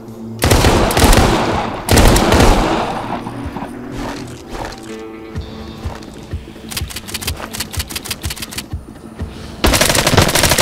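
Bursts of automatic gunfire in the Arizona Sunshine VR game, loud rapid volleys separated by shorter runs of shots and quieter gaps.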